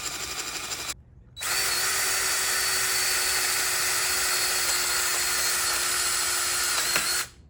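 A power drill bores through a fitting during a throttle cable install on a Mercury 115 hp two-stroke outboard. The loud, steady whine starts after a brief pause and runs unbroken for about six seconds.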